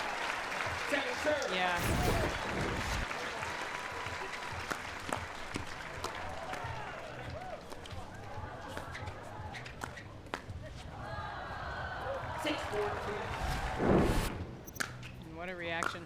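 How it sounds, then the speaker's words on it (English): Crowd applause and cheering at a U.S. Open men's pro doubles pickleball match right after a long point, loud clapping with shouts and footsteps, under commentary and a brief voice. "And what a reaction from the crowd."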